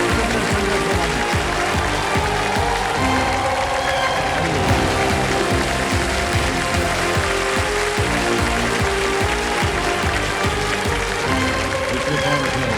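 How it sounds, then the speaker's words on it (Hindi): Studio audience at a Hindi quiz show applauding a contestant, dense sustained clapping filling the room steadily from start to finish, loud and close. "सोमा जी के साथ तालियां बज जाए।"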